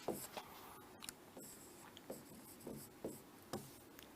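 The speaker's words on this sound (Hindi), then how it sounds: "क्वेश्चन लिख रहा हूं" A question is written out by hand, a pen or marker scratching across a surface in short irregular strokes and taps, close but faint, with no one talking.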